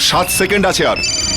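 A van driver's mobile phone rings in a tense CID crime-drama scene about a bomb. A bright electronic ringtone rises under urgent, close speech from people talking over it.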